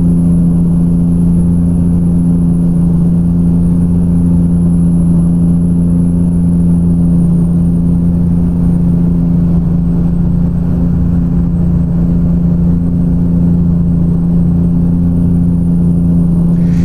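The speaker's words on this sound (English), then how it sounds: "the engine went ahead and the turbocharger on that, and you heard that little whine" A Kenworth W900B truck engine in American Truck Simulator idles and drones with a constant low rumble, a thin high turbocharger whine sustained above it throughout, with no talking.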